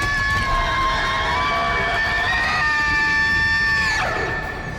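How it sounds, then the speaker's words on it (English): Shrill, sustained shrieking from the Stalker enemy in the horror video game Dead Space 2, loud and continuous with several wavering screeching tones that bend and fall near the end. "By the time you've heard the scream of Dead Space 2's Stalker"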